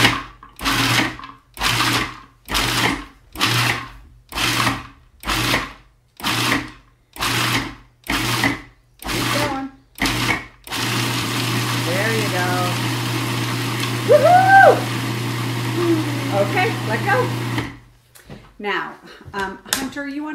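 Food processor pulsing pesto ingredients in about eleven short, evenly spaced motor bursts, loud and close, followed by a long continuous run of blending.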